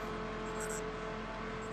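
Car from the Extreme Car Pack in The Crew video game accelerating down a straight road, a steady droning engine hum held at constant loudness with a faint whine on top.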